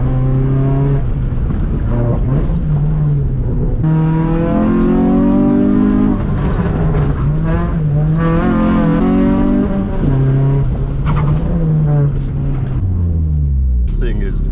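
Nissan Sentra working hard around an autocross course, its engine droning loud and steady in second gear with rising and falling revs, while the driver talks over it throughout.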